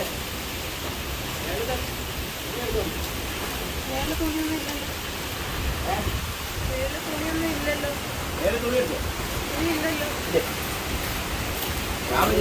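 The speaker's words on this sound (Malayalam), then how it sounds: "മഴ പെയ്തു ഇവിടെ" Rain falling outdoors at a cousin's home, a steady broadband hiss of drops on surfaces that holds evenly throughout, with faint softer sounds that may be distant voices underneath.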